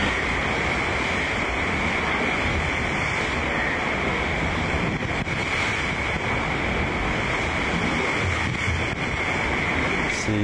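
Ocean waves and spray rush constantly around a MOD70 racing trimaran at sea, a loud, unbroken roar of water and wind noise with no speech.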